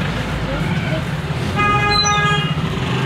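A traffic jam in the main market of Dharamshala, with a constant rumble of idling vehicles and a car horn sounding midway for about a second, fairly close, over background murmur.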